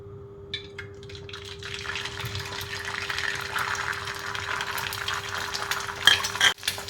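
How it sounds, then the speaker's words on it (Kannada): Eggs sliding into hot oil in a heated kadai, a steady close sizzle and crackle with faint stirring and utensil clinks, swelling slightly toward the end with a few sharper spatters. "ಇವಾಗ ಆ ಎಣ್ಣೆಗೆ ಎಗ್ಗನ್ನು ಹಾಕ್ಕೋಬೇಕು"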